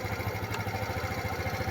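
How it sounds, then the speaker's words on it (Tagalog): A Kawasaki Z125 motorcycle engine idles close by with a steady, even low pulsing throb and light mechanical clatter, alone and without talk. "Pero nagbabago yung tunog ng makina."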